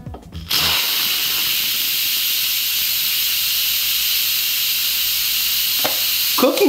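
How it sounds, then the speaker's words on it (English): An Instant Pot pressure cooker venting its steam through the release valve in a kitchen: after a brief knock, a loud, steady, forceful hiss runs nearly unbroken for several seconds. "I'm gonna shoot all this steam out of it"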